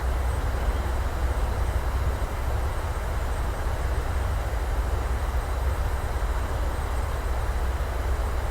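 A Boeing 737-800 BCF freighter rolls out after landing, its thrust reversers giving a steady, loud, broadband roar with heavy low rumble that holds constant throughout, with no talk over it.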